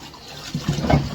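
Tap water runs and splashes in a kitchen sink during dishwashing, a soft wet trickle that swells into louder irregular splashing toward the end, close by with no voices.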